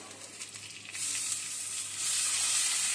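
Peas and carrots land in a hot pan of chow mein vegetables and set off a loud, steady sizzle that swells and holds at close range, with no talking.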